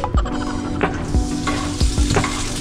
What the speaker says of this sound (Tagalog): After mag-sear ng pork, lutuin na natin ang ating sibuyas.